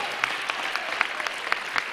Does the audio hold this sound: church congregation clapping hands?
yes